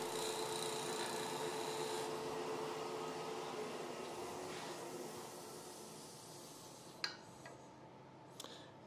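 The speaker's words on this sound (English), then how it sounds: "I'm just lightly scraping across here with my skew." A skew chisel lightly scrapes across wood turning on a lathe, a faint continuous rasp over a soft motor hum, with two sharp ticks near the end as the tool lifts away.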